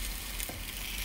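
Sourdough waffle batter hissing in a hot cast iron waffle iron, a brief steady sizzle at close range with no talking.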